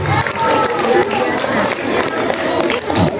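Dense applause from a school audience at an Islamic faith-and-piety event at MIN Kota Bima, honoring the Koran recitation officers. The clapping is steady and loud, mixed with crowd noise and a voice speaking over it.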